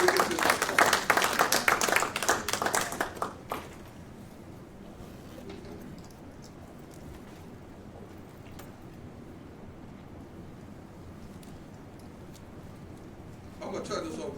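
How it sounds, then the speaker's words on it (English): Audience applause for a doctor coming forward at a clinical trials webcast event: dense clapping fills the first three and a half seconds, then drops to a quiet room tone, with a brief rise of noise near the end. "let's give Dr. Carter a round of applause as he comes forward"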